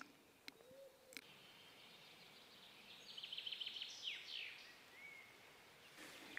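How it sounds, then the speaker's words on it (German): A common chaffinch sings a brief, rapid trilling phrase faintly in the distance in woodland, with a few soft clicks and a quiet outdoor background. "Wir hören hier ständig den Gesang des Buchfinks."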